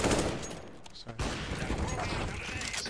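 Rapid gunfire from a CS:GO match, dense overlapping shots in a steady barrage from start to finish, with game noise and a short break near one second.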